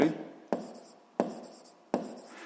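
Pen or chalk writing out a physics solution in short bursts, four sharp scratchy strokes each fading quickly, close and quiet, with no talking.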